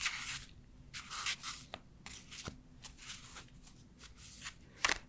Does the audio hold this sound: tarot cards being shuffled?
yes